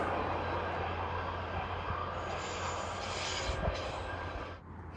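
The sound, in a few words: train from Milan crossing the Kellerbach bridge on the Gotthard line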